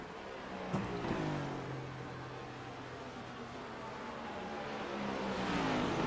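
Race cars lap a track in the iRacing simulator at World Wide Technology Raceway, Chevys and Fords together, their engines a steady droning roar that rises and falls as cars pass, with a sharp burst near the start.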